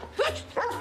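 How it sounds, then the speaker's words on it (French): A dog gives two short, close barks about a third of a second apart over a steady low background hum. "Qu'est-ce qu'il veut, ce chien de malheur?"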